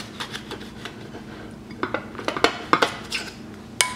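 A knife slicing through grape tomatoes pressed between two plates gives clinking ceramic and cutlery taps, scattered and close, with a few sharper knocks toward the end, no talking.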